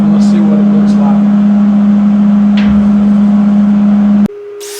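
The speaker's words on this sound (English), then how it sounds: "Let me change out my grinding disc and I'll flatten that off" An angle grinder runs steadily, flattening a weld on the cowl of a Model A coupe hot rod, a loud, even motor whine that cuts off abruptly near the end.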